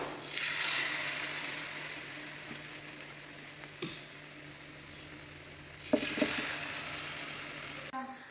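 Battered potato bajji fry in hot oil with a bright hissing sizzle that is loud at first and then settles to a softer steady crackle, with a few clinks and scrapes from the utensils.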